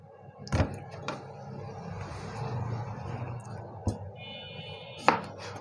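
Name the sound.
knife chopping ripe local mangoes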